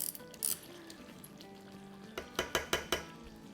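A stove knob is turned off after cooking white chicken korma, giving four crisp ratcheting clicks in close, even succession near the end of an otherwise quiet stretch.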